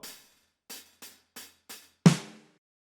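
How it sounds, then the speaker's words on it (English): Five crisp hi-hat ticks tap out a short, sparse pattern, followed by a louder crash-like hit that rings briefly before fading. "the hi-hats just play a little pattern that goes like this"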